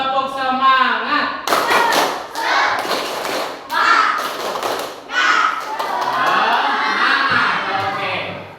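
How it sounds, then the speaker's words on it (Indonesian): A class performs a rhythmic spirit clap chant, groups of unison claps and thumps marking the beat as children shout along loudly in a lively room. "Kita mulai, kita tepuk semangat dulu. Tepuk semangat."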